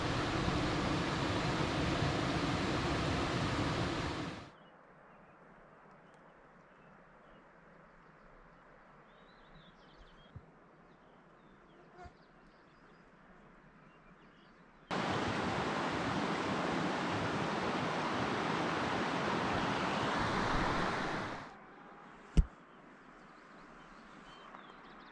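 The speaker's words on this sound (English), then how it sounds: "This is the Swift Current Creek." Swift Current Creek in Glacier National Park flows as a loud, broad rushing wash of water that cuts out abruptly, leaving a quiet stretch with faint clicks, before the rushing returns and stops again.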